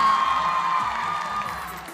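A school crowd at SMA Yadika 1 and SMK Yadika 2 claps and cheers with scattered whoops, a brief, fairly loud burst that fades slightly over two seconds.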